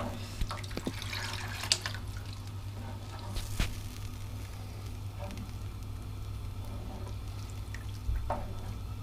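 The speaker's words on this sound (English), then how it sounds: "So we added a couple of extra cups of water." Water pours steadily into a pot of simmering masala dhal, a continuous splashing wash under a low hum, with a few faint clinks.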